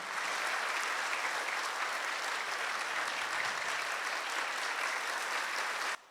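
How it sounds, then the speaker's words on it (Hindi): An audience claps warmly to welcome three guest saints at a gathering in an Osho ashram, a dense, steady applause that holds at an even level for several seconds before cutting off abruptly. "हृदय की गहराइयों से तालियों से हम इनका स्वागत करते हैं"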